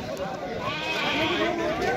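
Sheep and goats, including lambs for sale, bleat amid the busy crowd noise of an outdoor livestock market in Ajmer, with people talking throughout.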